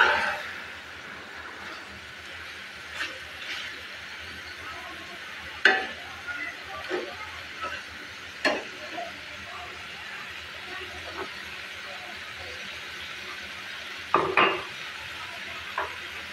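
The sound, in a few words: goat liver frying and being stirred with spices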